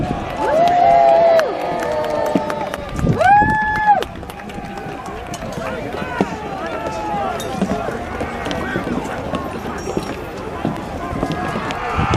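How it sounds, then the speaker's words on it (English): A crowd cheers and shouts at a re-enactment of the Battle of Evesham, a loud swell of voices with whoops near the start, then settling into a sustained murmur of shouting while someone speaks. "Give them a cheer"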